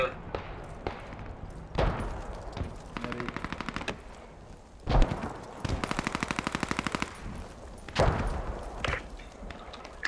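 Rifle fire from an M1 Carbine in the WWII shooter Post Scriptum, sounding as several bursts of rapid shots and single loud cracks spread across the clip, with game noise and a voice in between.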